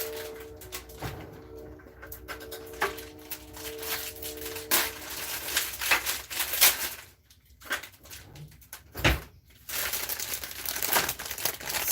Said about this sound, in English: No, I'm just going to open with a knife.